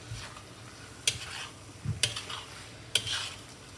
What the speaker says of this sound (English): I'm going to add the tofu,